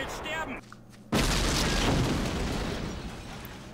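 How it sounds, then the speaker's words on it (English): A German mortar shell bursts with a deep, heavy boom in the Men of War Carentan battle. It hits close and loud after a brief voice, and a long rumbling roar tails off behind it. "German mortar crews have opened up on that position as well."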